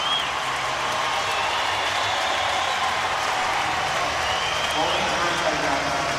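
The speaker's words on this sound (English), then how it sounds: "as you hear the crowd cheering" A large crowd roars and cheers continuously at an X Games Moto X Best Trick contest, a steady wash of distant stadium noise, with a commentator talking over it.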